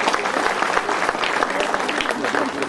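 An audience at a literary award ceremony breaks into steady, dense clapping that fills the room without pause for a few seconds.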